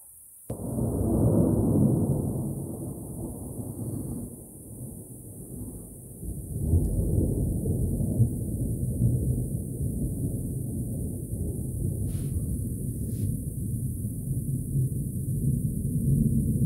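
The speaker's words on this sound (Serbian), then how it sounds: "Grmi." Thunder from an approaching summer storm rolls in a long, low rumble that swells early, eases, then returns and sustains at moderate distance, with a steady high hiss running over it.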